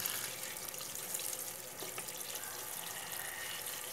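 Bitter melon herbs rinsed under a running kitchen tap, a steady hiss of flowing water splashing into a sink throughout, moderately quiet and close, with no talking.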